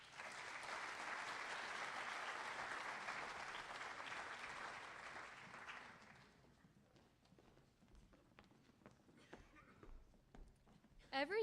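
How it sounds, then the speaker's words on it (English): Audience applause at a high school agricultural program's spring banquet, a dense sustained round of clapping that fades out after about six seconds, leaving a quieter room with scattered sounds. "Let's give this team a round of applause"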